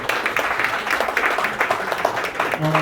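Audience applause at a Korean shared-growth forum after a long lecture and Q&A with two speakers, a steady patter of clapping with some voices and background sounds mixed in.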